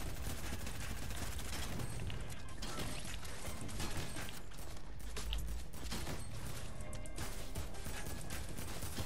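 Continuous, dense gunfire and mechanical clatter from a video game firefight, steady and rapid throughout without pauses, fairly faint in level.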